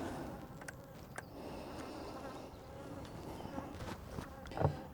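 Bees buzzing steadily around a beehive during a varroa mite treatment, a continuous close insect drone with occasional louder passes near the microphone, no talk.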